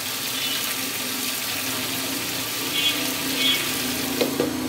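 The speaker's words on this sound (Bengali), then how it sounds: "এখন আমি সেই আলু আর পটলগুলো সব দিয়ে দিব" Potatoes and pointed gourd fry in a spice masala, sizzling in a steady, close, bright crackle with a few stirring bumps near the end and no voices.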